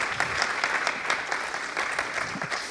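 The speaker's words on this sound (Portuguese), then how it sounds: "Pediria uma salva de palmas" Applause from an audience at an honoring ceremony at Museu do Amanhã, a steady dense clapping that holds at an even level throughout with no voices.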